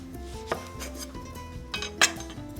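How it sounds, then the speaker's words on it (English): A knife slicing a pitted nectarine into thin slices, a few soft chopping taps on a board with light clatter of dishes in between, close and fairly quiet. "pull out the seed, cut it into thin slices"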